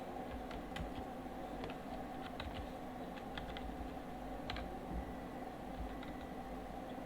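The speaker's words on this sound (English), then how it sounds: "a space so I can type" Scattered keystrokes on a computer keyboard as a comment is typed into an Excel cell, soft irregular clicks over a steady background hum.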